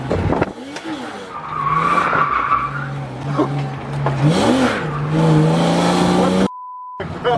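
A drift car with a welded differential spins out, tyres squealing and skidding loudly over a revving engine, with people talking throughout and a short beep near the end.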